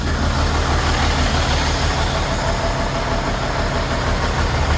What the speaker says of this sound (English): Might get a little noise. I got this truck on the other side of me